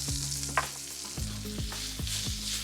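Sliced onion, garlic and chilli flakes frying in a pan for spicy Calabrian pesto pasta, giving a continuous close sizzle with faint stirring clicks and no talk.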